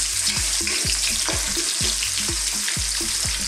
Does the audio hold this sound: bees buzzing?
no